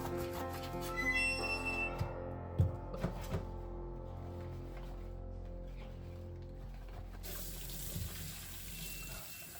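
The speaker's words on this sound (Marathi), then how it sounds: "एका ब्रशने व्यवस्थित धुवून घेते आणि पाण्याने नॉर्मल धुतल्या की थोडंसं कोमट पाणी घालून परत त्या धुवून घेते" A kitchen tap runs into the sink as bottles and dishes are scrubbed with a brush and rinsed in plain and warm water, giving continuous splashing with a few sharp clinks of the dishes and a faint tonal whistle.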